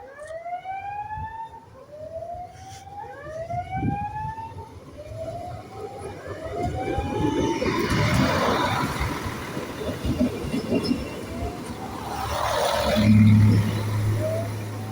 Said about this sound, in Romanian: Este un transferoviar călători care pleacă la București Nord.